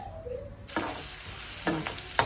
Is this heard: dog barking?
no